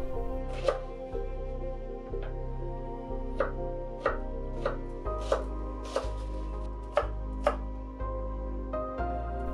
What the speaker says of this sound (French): Ciseler une grosse échalote.